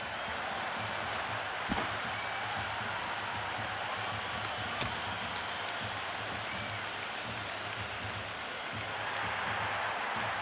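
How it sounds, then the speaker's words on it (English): A packed cricket stadium crowd at a T20 World Cup match between India and South Africa keeps up a steady, dense roar of cheering and applause for the whole stretch, with a couple of brief sharper bursts. "It's evident and ever so audible that the crowd is at near bursting point at today's play."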